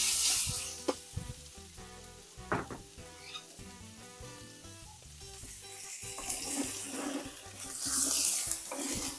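Pork searing in a hot pan, giving a loud, close, crackling sizzle with stirring clatter. Bursts of running water from a tap rise toward the end.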